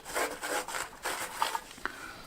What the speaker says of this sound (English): you strike the edge with a scraping blow to make sparks